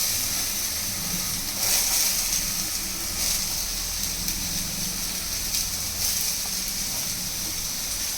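Chopped onions and ginger-garlic paste fry in oil in a pan for momos, making a steady, dense sizzling hiss that holds at the same level throughout, close up and with no talk.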